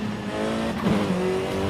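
A car engine drones steadily and loudly in the Forza racing game, with a tuned car's turbo adding a faint whistle over its rich, sustained tone and a brief swell near the middle.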